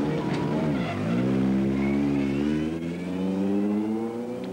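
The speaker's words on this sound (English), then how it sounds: "Röhrl's 400 horsepower short wheelbase Audi Quattro leads the field away from the start." A 400 horsepower short-wheelbase Audi Quattro rally car accelerates hard away from the start on a hot, dry Acropolis Rally stage in Greece, its engine note climbing steadily and loud throughout.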